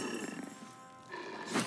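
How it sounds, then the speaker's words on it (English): Distant, muffled roars and growls rumble from a fight with gnolls off in the distance in Baldur's Gate 3, rising briefly at the end. "Hear that? Someone's fighting the gnolls."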